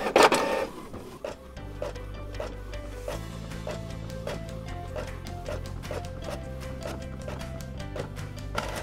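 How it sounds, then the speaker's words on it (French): A Canon printer fitted with a remanufactured cartridge whirs into motion and prints, with a low motor drone under a steady series of rhythmic clicks and taps from the print head moving back and forth, heard close and alone. "Vous allez entendre votre imprimante se déclencher."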